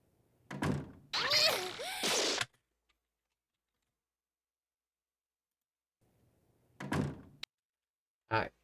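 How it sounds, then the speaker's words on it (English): A door swinging shut in a scene from the Japanese anime Card Captor Sakura, a soft thunk that comes after voices speak, with quiet gaps between. "door closing sound"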